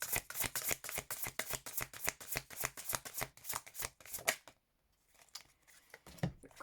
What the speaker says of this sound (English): Another card for Scorpio.